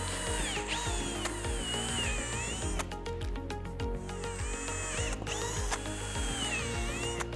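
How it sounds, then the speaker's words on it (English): A power drill bores alignment holes through a polycarbonate rear windshield for a sliding window kit, with repeated whining bursts, a ratcheting mechanical rattle and short pauses between passes. "We're gonna go through and drill those for our hardware."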